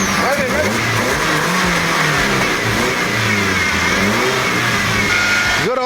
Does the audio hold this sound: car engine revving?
yes